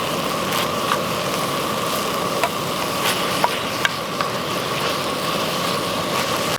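Taco meat with mild taco seasoning simmering in a skillet while backpacking in the High Sierra, a steady close sizzle and hiss broken by a few soft clicks and taps.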